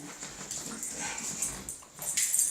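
A Corgi Chihuahua mix dog whimpers and whines in a run of thin, high, wavering cries, close by, ending in a louder, more insistent stretch of whining, with no one speaking.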